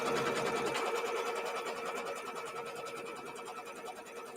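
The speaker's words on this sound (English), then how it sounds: "So it is just stitching out my main border." A sewing machine stitches out the main border of a small quilt in a fast, steady mechanical hum that runs close and continuous without a break.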